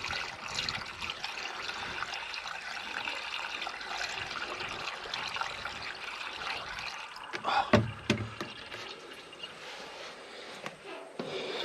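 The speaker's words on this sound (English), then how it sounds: "See me make a mess of this and pour most of it down the top of the motor." Engine oil pouring and trickling onto the top of a Fordson Power Major tractor motor during an oil change, a steady liquid splash with a few louder glugs and splatters near the end.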